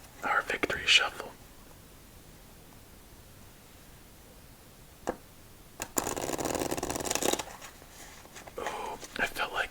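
Playing cards are shuffled after a solitaire game in two short, crisp riffling bursts separated by near silence, recorded close and quiet with soft whispered talk.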